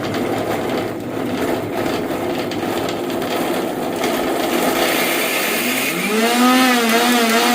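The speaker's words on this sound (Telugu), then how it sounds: "నేను ముందు అల్లం ముక్కల్ని చిన్న మిక్సీ జార్లో వేసుకుని నేను మిక్సీ చేసుకుంటున్నాను" A mixer grinder whirs steadily while blending ginger pieces in a small jar, a loud, continuous motor drone that shifts pitch near the end.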